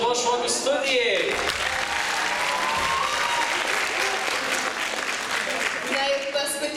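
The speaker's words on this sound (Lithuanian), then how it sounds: "Gausūs plojimai Šeduvos šokių studijai." Audience applause for a dance studio at a youth awards ceremony, dense continuous clapping from a large crowd, steady and loud for several seconds with a voice speaking over it.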